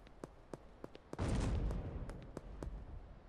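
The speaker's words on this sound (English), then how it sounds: "Investigate the explosion." A sudden loud explosion-like boom erupts in the game Schedule 1, followed by a sustained rumbling roar, with sharp sparse clicks before and after.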